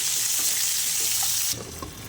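Cut tomatoes and green chillies frying in a pan, a loud hissing sizzle that drops suddenly in level partway through as they are stirred, close up.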